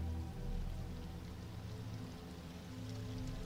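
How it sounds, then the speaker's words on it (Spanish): Steady falling water, like rain or a light trickle, with soft continuous patter and drips, faint and even throughout. "Empiezas a vibrar con este sonido del agua cayendo."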